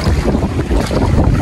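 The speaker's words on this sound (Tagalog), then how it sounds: "Lakas ang hangin oh." Strong gusting wind roars across the microphone at a beach sandbar on Basiao Baywalk in Padre Burgos, Quezon, with waves breaking under the loud, steady buffeting.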